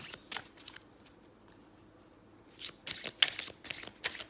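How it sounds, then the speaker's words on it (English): Tarot cards are shuffled hard in two bursts of riffling and slapping, close and fairly quiet, with a short pause between them. "I need a good hard shuffle."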